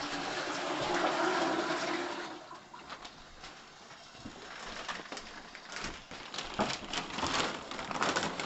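Water drains from a central heating pipe into a bag, making a continuous close splashing, rushing gush that eases and roughens over several seconds, with no talking.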